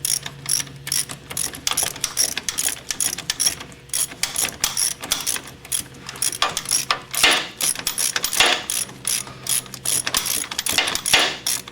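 A 3/8-inch-drive ratchet with a 19 mm socket loosens the compressor bolts on a Mercedes 300D, giving rapid, close, repeated pawl clicking in bursts with short pauses between strokes.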